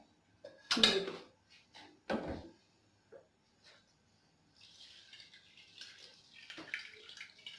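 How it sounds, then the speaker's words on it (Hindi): Boiled water is poured onto homemade pizza cheese curds made without rennet, producing a few short splashes and clunks of kitchenware followed by a soft, trickling pour, all faint and close. "अब हमने जो पानी बॉयल किया है ना वो हम इसको डालेंगे"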